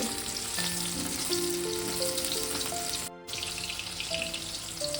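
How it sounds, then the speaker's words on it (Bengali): Mushrooms frying in a pan with a dense, steady sizzle and crackle throughout, plus faint sustained tones and a brief dropout near the middle. "মাশরুমটা আমি ভেজে নিয়েছি মিনিট 2 ধরে।"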